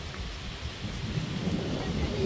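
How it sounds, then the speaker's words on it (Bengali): Steady rain with gusting wind in a Bangladeshi village, low rumbling thunder-like energy underneath, moderately loud and continuous without speech. "কত সুন্দর বাতাস আর বৃষ্টি হইতেছে"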